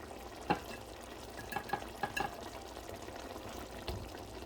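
Salmon pieces laid into a pan sizzle faintly beside potatoes, with soft crackling and a few light clinks and taps from utensils, quiet and close with no talking.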